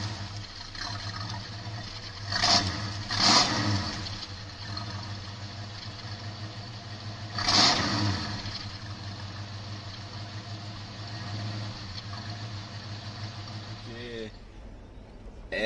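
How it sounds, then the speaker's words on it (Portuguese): A 1976 Landau V8 idles outdoors with a steady, low rumbling hum, broken by a few brief louder surges. "Fizemos até um take aqui dele funcionando por fora, que é a única maneira que tem para ouvir o V8 dele funcionar."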